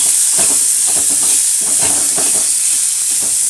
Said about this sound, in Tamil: உப்பு போட்டுக்கிறேன், சீக்கிரமாக வதங்கிடும்.